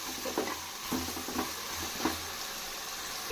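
Lightly salted onions sizzle in a pan for a hotel-style mixed vegetable curry, with soft scraping stirs every half second or so over a steady low frying hiss.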